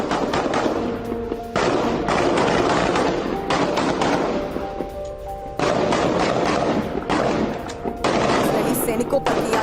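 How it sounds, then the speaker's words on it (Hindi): Bursts of automatic weapons fire in Tulkarm, West Bank, loud rattling volleys separated by short lulls, with voices mixed in under the shooting. "तुलकर में फायरिंग करते दिखे हमास समर्थक।"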